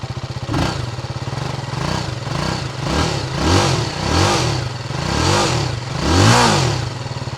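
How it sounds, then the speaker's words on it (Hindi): A TVS Apache RTR 310 motorcycle stands still while its exhaust is revved in a series of rising and falling blips, about six loud, close throttle pulls over a steady idle rumble, with no voices. "एग्जॉस्ट साउंड मैं सुनाता हूँ"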